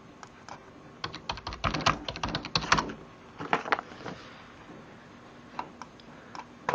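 Someone types a street name on a computer keyboard in a quick, close burst of key clicks, followed by a few scattered taps.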